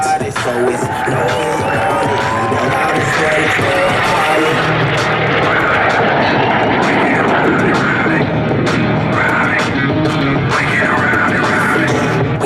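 A loud, continuous roar of a Snowbirds jet performing a max performance turn at the 2023 Red Deer Airshow, steady throughout with crowd noise mixed beneath.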